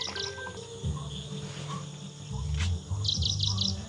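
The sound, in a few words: sparrows and weaver birds chirping in village fields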